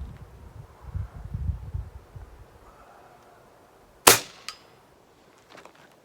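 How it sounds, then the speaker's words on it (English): Spring-powered toy gun fired once, a sharp loud snap with a brief metallic spring twang after faint handling rustle, followed by a smaller click and quiet background. "It's got quite this, it's got quite the spring noise in there"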